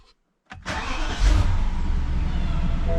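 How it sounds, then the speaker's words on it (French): A BMW 7 engine, just repaired for a faulty PCV/CCV crankcase valve, cranks and catches after a moment of silence, then settles into a steady, close, loud idle rumble with no talking. "on teste, et on écoute un petit peu le moteur."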